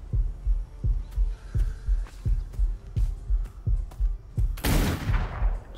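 Pirates in the video game Atlas fire at the player in a rapid, evenly spaced series of thumping shots, loud and close, ending in a harsh burst of noisy blast.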